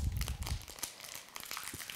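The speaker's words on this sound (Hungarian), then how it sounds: "Egyszerűen csak lehúzzuk a papírt és kibontjuk a" Paper wrapping being peeled and torn off an Epson ink bottle for an L110/L210 printer, a close, soft crinkling and tearing with a few sharper crackles, heard alone.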